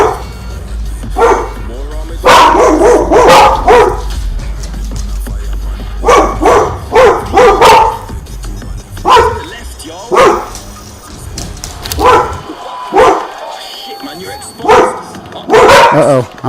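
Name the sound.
dogs barking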